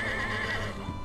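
A horse in the video game Scribblenauts Unlimited gives a loud, close whinny with a wavering pitch, followed by a brief snort.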